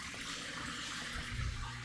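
Water from an aquarium filter outflow hits the tank surface hard and splashes out bubbles, giving a steady, close gurgling rush with a brief louder burst.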